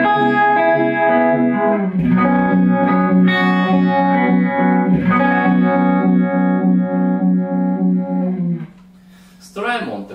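Electric guitar through a Strymon Ultra Violet vibe pedal, sustained chords swirling with lush, throbbing modulation and a thick tone, ringing out before a short pause and a final plucked note.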